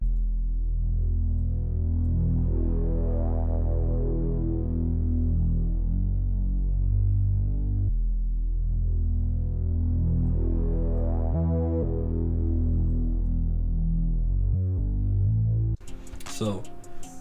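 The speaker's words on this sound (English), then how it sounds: "For synth basses, for these kinds of melodies, I love using the growling move bass from Omnisphere." A growling synth bass preset from Omnisphere plays in a trap beat, a deep sustained throbbing tone that swells in repeated phrases, loud and alone, cut short by a burst at the end.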